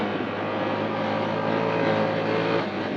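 A 2025 Can-Am Outlander 1000R XT-P ATV engine pulls hard in sport mode, a loud, close, steady roar that holds level throughout with no voices.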